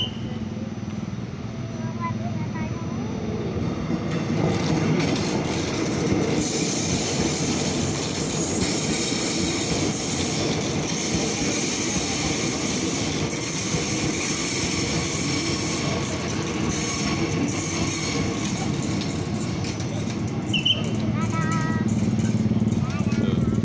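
An airport express train rolls into Batu Ceper station with a continuous loud rumble and wheel noise up close, a brief squeal near the end, and voices mixed in.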